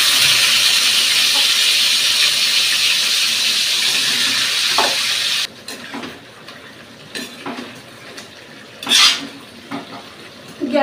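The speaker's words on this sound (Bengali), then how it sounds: "গ্যাসের দুই ধারেই মাংস কষাচ্ছি, এক ধারে চিকেন কষাচ্ছি আর অপর ধারে মাটনটা কষিয়ে নিচ্ছি" Mutton and chicken braising in two pans on a gas stove, a steady loud sizzle and hiss for several seconds that drops away to quieter kitchen sounds with a few light clinks of utensils.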